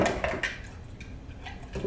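A spoon stirs a pizza dough mixture in a bowl, giving a few clinking, scraping strokes that are loudest at the start and then settle into a quieter, softer swirl.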